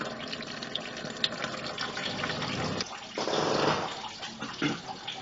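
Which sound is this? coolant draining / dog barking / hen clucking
coolant draining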